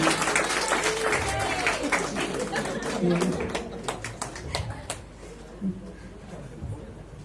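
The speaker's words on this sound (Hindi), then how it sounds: "जोरदार तालियां मैडम जी के लिए।" Audience applause for a woman teacher at a foundation program in Jabalpur, a burst of clapping with chatter and light laughter that fades after a few seconds, leaving softer voices.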